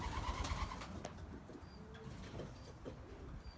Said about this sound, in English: This is the first group of birds that came in.